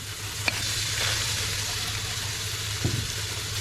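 Small onions frying in hot oil in a pan after the water has cooked off, for a thoran, with a steady close sizzle and a couple of faint stirring knocks.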